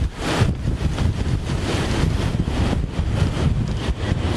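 A strong thunderstorm outflow wind gust in Glasgow roars steadily against the microphone, a loud broadband rush with continuous buffeting and no voices.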